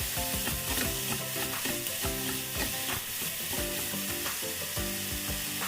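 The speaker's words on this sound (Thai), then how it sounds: "ใส่ถั่วงอกลงไปปรุงด้วยซีอิ๊วขาวนิดนึงค่ะ ก็คนคนคนคนแบบรีบๆแล้วก็ตักขึ้นเลยค่ะ" Bean sprouts stir-fried with a little light soy sauce in a pan give a steady, close sizzle with busy scraping and stirring strokes of a spatula throughout, and no voices.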